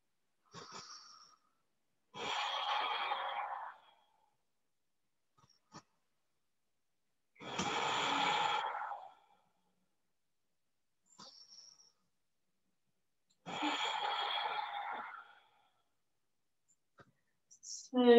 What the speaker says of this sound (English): We're going to take three breaths here.